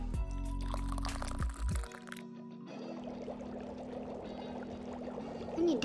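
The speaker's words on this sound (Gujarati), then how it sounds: "2 મિનિટ પછી ફરીથી 1 કપ પાણી એડ કરીશ." About a cup of water is poured into a simmering Gujarati potato and peas curry, giving a steady splashing pour that follows a few seconds of kitchen clatter and hum.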